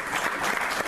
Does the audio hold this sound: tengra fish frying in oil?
no